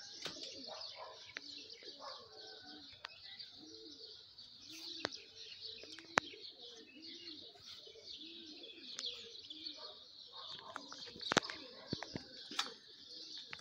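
Pigeons cooing repeatedly on a rooftop, soft rhythmic coos close by with scattered chirps and occasional sharp clicks, a voice talking faintly in the background.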